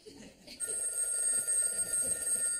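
A telephone rings indoors in a home with a sustained, high electronic trill starting after a moment of quiet, alongside brief talk in the room.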